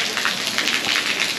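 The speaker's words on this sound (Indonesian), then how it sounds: "tapi ini hujan, deras banget" Heavy rain pours down on Seram Island in Maluku, a dense, steady hiss of drops drumming on surfaces, loud and close with no voices.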